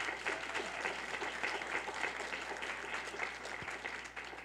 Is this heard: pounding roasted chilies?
no